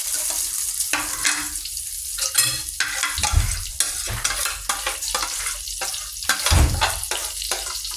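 Eggplant omelette (tortang talong) frying in a pan, steady oily sizzle with intermittent scraping and stirring of a utensil, close and fairly loud with no talk.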